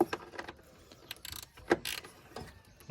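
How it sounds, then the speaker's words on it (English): A 10mm ratchet snugging a bolt on a Pontiac Vibe during starter replacement: several quick bursts of clicking pawl and metallic rattling, close and fairly quiet, separated by short pauses. "Gonna get the 10mm ratchet."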